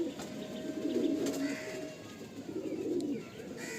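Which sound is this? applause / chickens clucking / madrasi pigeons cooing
madrasi pigeons cooing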